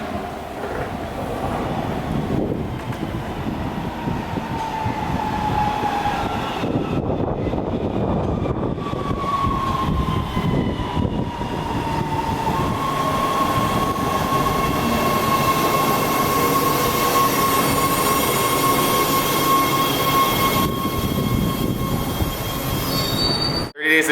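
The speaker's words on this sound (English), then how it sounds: "the train to North Hollywood is on its way as we speak" A Los Angeles metro train bound for North Hollywood rolls into a nearly empty station, its wheels squealing loudly in long drawn-out tones over a heavy rumble, with wind buffeting the microphone.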